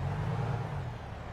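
Air-brake hiss from a Volvo VNL semi truck in American Truck Simulator, a steady, loud rush of air with a low rumble that fades slightly toward the end, with no voices.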